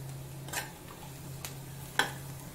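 Onions with curry leaves and slit green chillies sautéing in a pan for potato masala rice; a faint low sizzle broken by three sharp spatula scrapes and taps against the pan.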